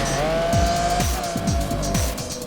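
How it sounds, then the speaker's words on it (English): A car drifts through a corner in the racing game Project Gotham Racing 4, its engine roaring loud and close over a sustained squeal of tires, with repeated gear-shift dips in pitch. "I'm just drifting all the way."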